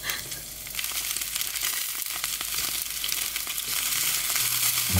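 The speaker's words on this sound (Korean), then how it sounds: "당근도 다 볶고 콩나물 나물로 하면 좋은데 너무 귀찮아서 볶으려고요." Carrots and bean sprouts stir-fry in a pan with a loud, continuous sizzle and occasional scraping stirs up close, no voices present.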